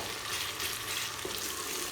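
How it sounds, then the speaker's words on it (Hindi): Onion browning in a pan with ginger garlic paste for a village-style country chicken curry gives a steady, even hiss of frying that carries on throughout with no talk. "प्याज हमारा लाइट ब्राउन हो चुका है, हम इसमें अदरक लहसुन का पेस्ट ऐड कर देंगे और इसे मीडियम ब्राउन कर लेंगे।"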